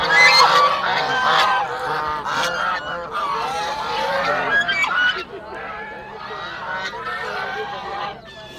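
A crowd of ducks quacks and honks loudly and continuously, close by at a livestock and bird fair, with some faint voices mixed into the noisy chatter.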